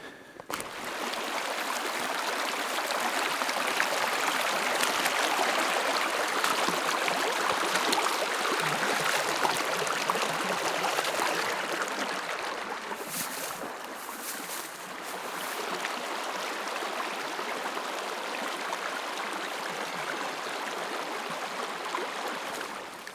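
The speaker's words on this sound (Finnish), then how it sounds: "Siinä oli puron ylitys" Broad, steady rushing of a forest stream fills the whole stretch, close and continuous, with a slight dip in intensity midway.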